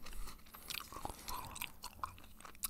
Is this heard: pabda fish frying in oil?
no